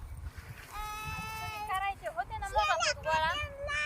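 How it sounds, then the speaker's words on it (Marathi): Goats bleat repeatedly on a farm during a summer pearl millet harvest, several wavering cries overlapping close by, with faint voices murmuring in the background. "अय समृद्धी शेळ्या कुठे येता कुंकड"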